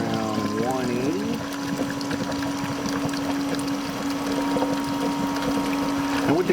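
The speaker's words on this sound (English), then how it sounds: "Flip our refrigeration on, our compressor's on now." Refrigeration compressor running on a water ice machine, a loud steady mechanical drone with a constant hum throughout, plus brief whirring pitch changes at the start and faint clatter.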